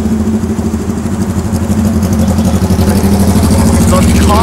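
A Ferrari F40 engine running on a road in Japan, a loud, close, rhythmic idle-like throb with a steady pulsing low rumble that grows slightly toward the end.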